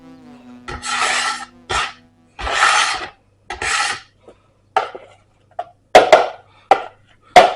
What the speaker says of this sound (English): Scraper and should be able to scrape this into the bowl.